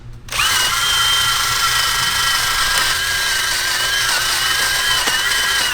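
A power-tool wire wheel strips flaking paint from old engine parts, a loud continuous high-pitched whir that spins up quickly and holds steady for several seconds, close by and with no talking.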